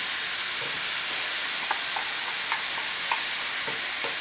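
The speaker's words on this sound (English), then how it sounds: "I add a little bit of olive oil. I add the mushrooms. So these are chopped mushrooms." Chopped mushrooms fry in olive oil in a pan, giving a steady, close sizzle with a few light stirring clicks and scrapes scattered through it, and no one speaking.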